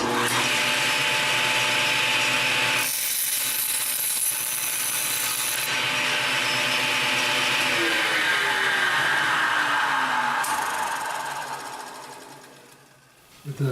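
A power saw, likely a miter saw, cuts a 45-degree angle through quarter round wood trim, a steady loud whine and grind that runs for several seconds, changes pitch midway, then winds down and stops.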